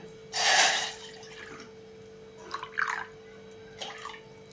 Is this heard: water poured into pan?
yes